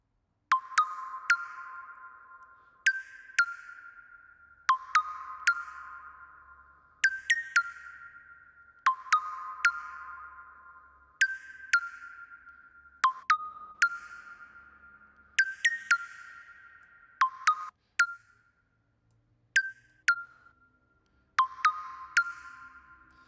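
A convolution reverb tail with every high frequency cut, applied in a mix, turns repeated short tonal hits into dull, muffled decays. They fall in an irregular rhythm, each ringing out darkly before the next, with no voices present.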